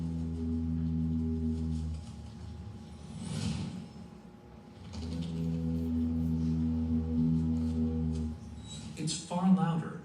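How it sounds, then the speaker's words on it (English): Slowed-down sound of a bird's spread tail feathers vibrating in the rushing air of a dive, heard as a low, droning buzzy tone in two long bursts with a brief gap between, fairly faint. "air screaming through his spread out tail feathers makes them vibrate in a very special way."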